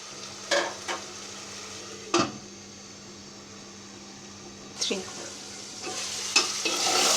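Tender amaranth stems being stir-fried in a spice paste: a low, steady sizzle with a few sharp spatula scrapes against the pan at irregular moments, close by, with no talking.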